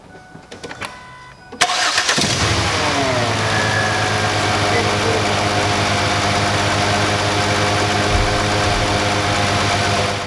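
A car engine with a misfire and an old ignition coil refitted cranks briefly, then catches and settles into a steady, loud idle up close.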